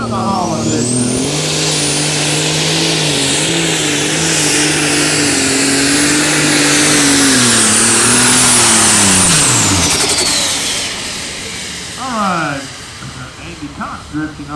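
A light super stock pulling tractor running on alcohol roars loudly down the track at a tractor pull in Hopkinsville, engine pitch climbing and holding for about ten seconds before cutting off, with an announcer talking over it.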